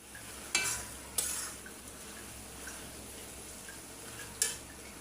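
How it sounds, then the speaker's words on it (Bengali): Stalks and eggplant being stir-fried in a pan, with a soft steady sizzle and a few sharp scrapes of a spatula against the pan, heard up close. "ডাঁটা আর বেগুন কষায় আমি"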